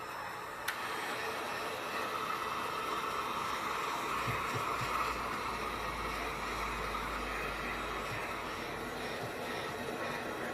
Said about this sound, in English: hit it with the hair dryer or heat gun, whatever you have